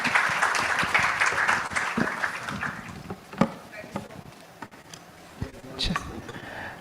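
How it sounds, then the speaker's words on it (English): An audience applauds a panel at the close of an iDac Conference 2025 session, a steady wash of clapping throughout with a few louder claps standing out. "Let's give our panel a big, big round of applause."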